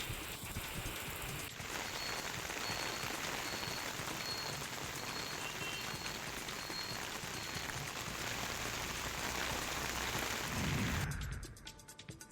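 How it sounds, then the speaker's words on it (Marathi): Steady rain falls in Sindhudurg district, a constant close patter of drops on surfaces that continues evenly for about eleven seconds before cutting off abruptly near the end, with no voices. "सिंधुदुर्ग जिल्ह्यात सकाळपासून पावसाची रिपरिप सुरू आहे।"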